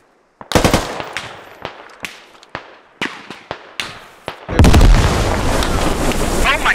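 Gunfire in the Squad shooter video game, a string of sharp single and short-burst shots at uneven intervals, then a dense roaring stretch of heavy sustained fire and blasts.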